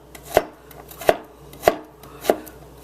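A knife slices fresh ginger into strips on a cutting board, making four evenly spaced, sharp chops that land close and crisp against quiet surroundings, with no voices.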